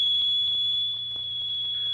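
Smoke alarm set off by burning toast beside a toaster, a steady piercing electronic tone sounding continuously and loudly, with faint clatter underneath.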